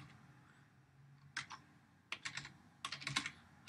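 Computer keyboard typing a search for a configuration file, in short bursts of quick, close key clicks separated by pauses.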